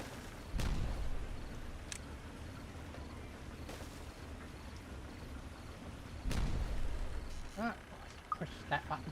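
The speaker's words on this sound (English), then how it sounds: "Ah, explosions." Loud booming explosions in the video game Timberborn, two heavy blasts a few seconds apart followed by scattered crackling pops, with a person talking throughout.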